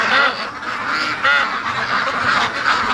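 A flock of free-range ducks quacks and honks restlessly under a hazy full moon, overlapping calls rising and falling in a steady, fairly close chorus.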